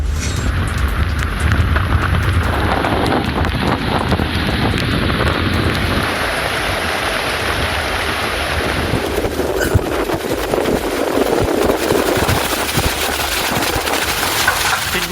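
Cyclone Ditwa batters the coast with strong wind and rough sea, a loud, continuous roar of gusting air and crashing surf with rain-like hiss and low rumbling, no voices.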